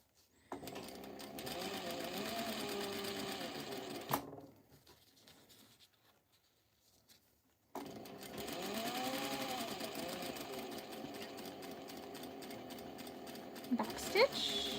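A sewing machine stitches mesh onto a tote bag, running steadily for several seconds, stopping for a quiet pause and then starting again, close and clear with no talking.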